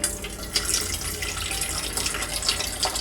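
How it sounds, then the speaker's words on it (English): Water is poured steadily into a container sitting on a kitchen scale, a continuous close splashing trickle with a few brighter drips throughout and no one speaking. "I have my water and I can just add that in."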